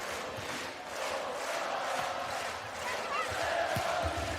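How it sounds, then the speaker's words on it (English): Arena crowd at a women's volleyball match in the Stego Arena singing along to music over the sound system, a loud sustained swell of massed voices with rhythmic pulses. "big sing-song going on from the arena crowd, the Stego Arena crowd"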